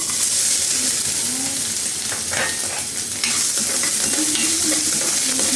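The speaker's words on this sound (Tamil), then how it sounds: "இஞ்சியும் நல்லா வதக்கிடுங்க பச்சை வாசனை போகிற வரைக்கும் நல்லா வதக்கலாம்" Ginger and dried red chillies sautéing in a pan for a ginger chutney, a steady close sizzle with scraping stirs throughout, no voices.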